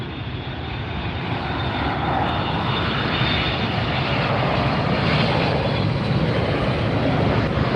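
A jet airliner roars at Los Angeles International Airport amid simultaneous landings and departures, a loud, sustained engine rumble that swells gradually and holds steady with no speech.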